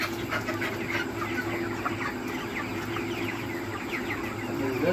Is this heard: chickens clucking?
yes